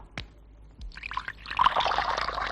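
Hot water is poured in a steady splashing stream that builds up and keeps running after a couple of soft knocks, close and moderately loud.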